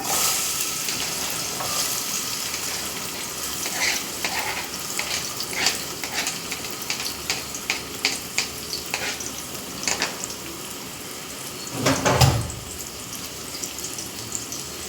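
Onions and green chillies sizzle as they are added to hot oil in a pan for a fish curry, with steady frying crackle, scattered stirring clicks, and a louder burst of sizzle near the end.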